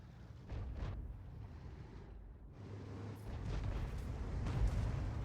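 A tank gun fires in a tank video game, with a deep rumbling boom and a low, sustained roar that swells toward the end, heard without any talking.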